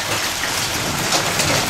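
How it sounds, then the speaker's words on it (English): Hail falling in Little Elm, Texas, during a spring storm, a dense, steady patter of pellets striking surfaces nearby, continuous and fairly loud throughout with no talking. "Look, we're getting hail balls, Carrol."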